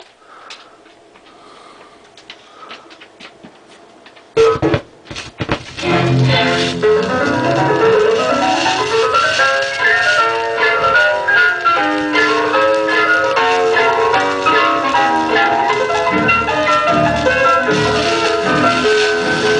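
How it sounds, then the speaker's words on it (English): A late-1940s acetate disc plays on a 78 turntable. A few seconds of quiet surface crackle come first, then loud, full music begins and carries on steadily. "I'm going to listen to this recording that was made on that machine probably in the late 40s on an acetate disc"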